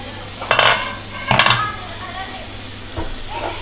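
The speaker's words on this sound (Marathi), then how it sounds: "ढवळा ढवळा मस्त झालो." Mango sheera made with Hapus mangoes is stirred in a pan, with a few scraping stirs and clinks against the pan over a soft background hum, close by and with no talk.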